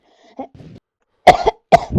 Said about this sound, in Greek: Που έχω πνιγεί από το βήχα.